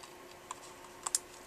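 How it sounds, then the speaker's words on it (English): Excess paper is trimmed off the bottom edge of a die-cut craft piece: three short, crisp clicks spaced apart, close by and quiet, with near silence between them. "I can just go ahead and trim off the excess along the bottom edge"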